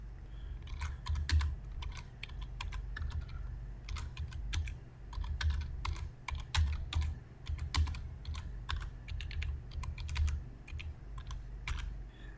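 Fingers typing text on a computer keyboard nearby, a steady run of rapid key clicks with brief pauses, fairly loud and with no talking.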